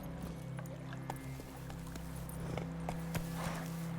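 Roach the horse trots along in The Witcher 3: Wild Hunt, hooves clip-clopping in a steady near rhythm over a low droning game soundtrack, with a brief whinny-like sound mixed in.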